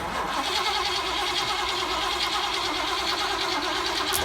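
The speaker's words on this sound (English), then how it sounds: "Give her a kick again." A Ford Customline hot rod engine, primed with two-stroke fuel, churns loudly and steadily after a kick, with a dense, continuous mechanical roar that holds throughout without clear revs or pauses.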